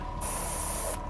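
An airbrush sprays thin Huge Miniatures model paint in a single close, steady hiss lasting under a second, set against a continuous low background hum.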